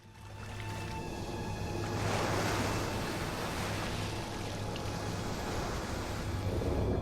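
Ocean waves and water from a TV show make a continuous broad wash of surf. It is fairly loud and steady, swelling slightly around the middle, and no voices are heard.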